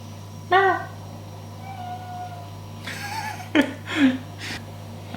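A cat meows several times close by, a clear drawn-out cry followed by shorter, rising calls spaced over a few seconds against a steady low hum, with no talking.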